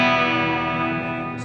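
A Fender spring reverb pedal modelling a '63 standalone unit and a '65 amp spring sustains a loud, drenched guitar tone that fades slowly, with no talking.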